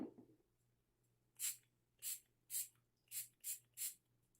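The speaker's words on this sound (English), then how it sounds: "You're just going to squirt random pieces of the color onto the dryer sheet." Six short, sharp bursts of spray hiss at an uneven pace as colour is spritzed onto a dryer sheet for a cardmaking background, each puff close and clear against a quiet, faintly humming room.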